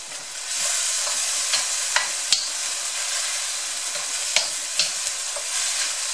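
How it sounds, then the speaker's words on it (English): Beef stir-fries in a hot pan with a bright, continuous sizzle up close, broken by occasional sharp spatula taps and scrapes as it is tossed. "I stir fry the beef first because it takes longer to cook"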